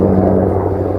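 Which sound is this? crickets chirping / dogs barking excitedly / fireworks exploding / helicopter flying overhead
helicopter flying overhead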